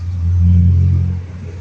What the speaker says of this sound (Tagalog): Yan guys, oh, yung motor